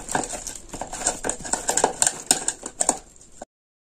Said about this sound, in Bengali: দিয়ে এটাকে আমি হাত দিয়ে ভালো করে মাখিয়ে নিচ্ছি।